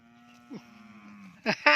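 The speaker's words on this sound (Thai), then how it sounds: "วัวน้อยใจอยากออกแล้วครับอ๋อได้ยินไหมวัวน้อยใจ" A young water buffalo calf calls from a farm pen beside its mother, giving a drawn-out low moo followed by two short, louder bleating cries near the end, close by and otherwise quiet.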